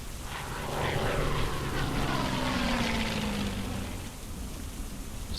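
Propeller airplane engines in the wargame Hex of Steel, a steady droning hum that swells slightly and then eases, heard alone with no talk.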